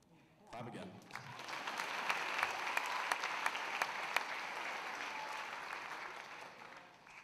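A school event audience applauds, the clapping rising quickly and continuing as a steady, moderately loud wash with a few sharper individual claps standing out before it slowly fades.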